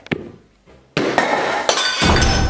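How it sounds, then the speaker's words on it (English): Glass smashes with a loud crash and keeps shattering and clinking for over a second, following a few lighter knocks. "there was a loud crash from the kitchen"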